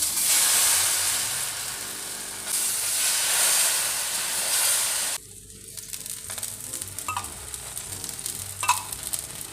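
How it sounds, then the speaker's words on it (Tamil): Carrot and wheat dosa batter sizzles loudly on a hot pan, a steady frying hiss that drops sharply partway through to a quieter crackle with small pops, no talking. "இன்னொரு தோசை ஊற்றிக்கலாம்."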